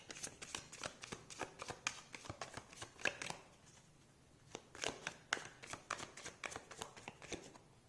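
A deck of Lenormand cards is shuffled in close, crisp riffles and snaps during a card reading, repeated in quick bursts with a brief quieter gap in the middle.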